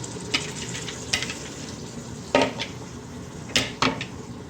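Spices fry with half a kilo of yogurt in a pot for paye, a soft sizzle underneath and several sharp clanks and scrapes of a spoon stirring against the metal.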